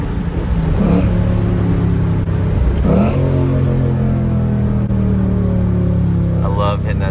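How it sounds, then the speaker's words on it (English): A Ford Mustang's engine pulls hard in second gear, a loud, rising roar that climbs steadily with brief shifts in pitch, heard from inside the car with a voice speaking over it. "I love hitting that second gear really hard with this motor."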